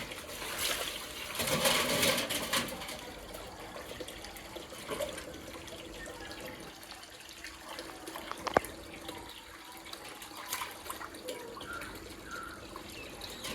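Water drains out of a lily pond that holds grown fish, with a soft continuous trickle and splashing, a louder gush near the start and occasional drips and knocks, all fairly quiet and with no talking.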